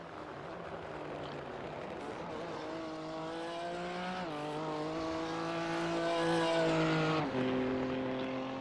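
GT3 race car in a racing video game at Bathurst, engine note rising steadily as it climbs a hill, with gear-change drops and a sustained loud harmonic whine throughout.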